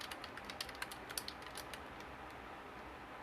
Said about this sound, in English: Let me type it in one more time.